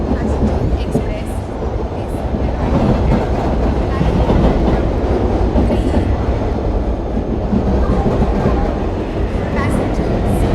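In a video game, the Garib Rath Superfast Express passenger train runs with a steady, dense rumble and rhythmic wheel clatter on rails, loud and continuous for ten seconds, with faint talk mixed in.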